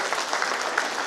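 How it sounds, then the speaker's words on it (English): Audience applause at a UGC-MMTTC regional academic workshop session, a dense, steady wash of clapping that holds at even loudness through the brief moment. "Give a huge round of applause"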